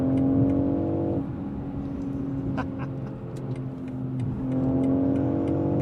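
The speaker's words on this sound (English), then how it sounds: "Even get a little blow-off noise." A 2025 BMW X3 M50 with nearly 400 horsepower accelerates on a freeway, its engine droning and rising in pitch inside a quiet cabin, with a brief turbo blow-off burst partway through.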